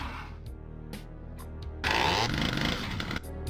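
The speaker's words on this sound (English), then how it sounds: "And using chainsaws, you know, whatever works." A chainsaw revving in the video game Doom, a harsh buzzing motor that surges louder midway and keeps roaring over game noise and sharp impacts, with no talking.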